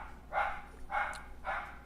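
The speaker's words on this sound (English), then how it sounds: "my dogs start going to bark" Dogs bark indoors in the background, three evenly spaced barks about half a second apart, moderately distant and not very loud, with no talking over them.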